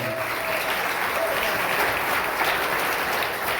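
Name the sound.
congregation applauding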